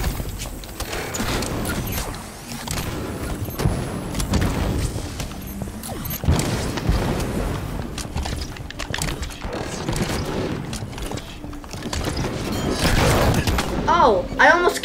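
Grenade blasts from Halo 5 gameplay thud repeatedly amid dense game noise and gunfire, several booms spread across the stretch with voices talking over them.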